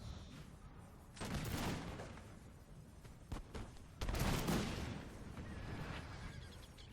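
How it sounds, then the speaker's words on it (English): Artillery fire in Napoleon: Total War on the Waterloo battlefield: two broad rumbling salvos of cannon and musketry roll out over a steady battle din, with a couple of sharp nearer cracks between them. "Artillery fire still coming down on these columns though."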